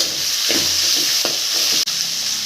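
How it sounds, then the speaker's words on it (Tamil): Tomatoes, green chillies and onions sautéing in a pan for a coconut milk fish curry: a loud, steady sizzle and hiss with a few stirring scrapes, close up and with no talking. "இந்த குழம்புக்கு தேவையான உப்பையும் போட்டு இதிலே வதக்கிக்கலாங்க வெங்காயம் தக்காளி கூடையே"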